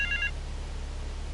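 A telephone rings in a video game: one short trilling burst at the start, then only a steady wash of background noise with no speech.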